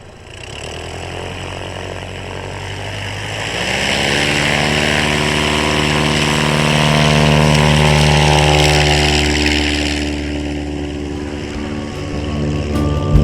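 Piper Cub light aircraft engine heard up close while taxiing at a STOL event, a loud buzzing propeller drone that swells in the middle and then eases off, with no talk over it.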